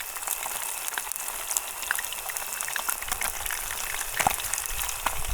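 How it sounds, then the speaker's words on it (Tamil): Masala-marinated fish frying in hot oil, village-style cooking, a continuous close crackle and spatter with scattered sharp pops. "மசாலா போட்டு ஒரு 10 நிமிஷம் ஊற வச்சு அப்படியே எடுத்து வறுத்துட்ருக்கோம்"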